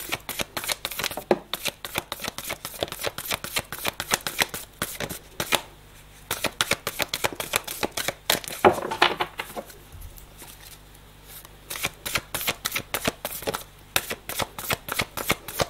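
Playing cards shuffled repeatedly for a tarot-style reading, a dense run of crisp riffling and flicking that continues in bursts with brief pauses, close and fairly loud, with no talking.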